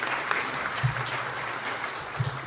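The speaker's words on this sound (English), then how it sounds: "Can we just give a round of applause to the chamber?" An audience at a metro mayors' lunch event breaks into steady applause, a dense, continuous patter of clapping at moderate volume with a few low thumps in the room.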